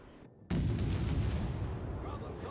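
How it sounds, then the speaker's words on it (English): A battleship's naval gun salvo in a video game fires as a sudden heavy boom after a brief quiet moment, followed by a sustained low rumbling roar that slowly fades. "the battleship can completely annihilate those with one salvo"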